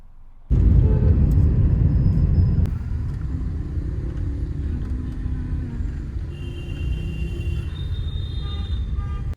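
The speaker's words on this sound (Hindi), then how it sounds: "And now this traffic." Road traffic in Chandigarh rumbles loud and close, a dense, steady drone of engines that is heavier for the first few seconds and then settles into a continuous roar.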